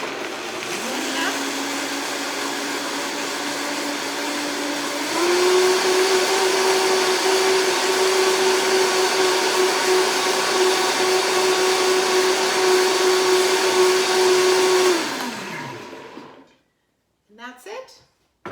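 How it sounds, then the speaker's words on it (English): A kitchen blender purees pantry ingredients into a sauce with a steady, loud whir that steps up to a higher speed partway through, then winds down to a stop, followed by a few light clicks. "all we're going to do is blend it up"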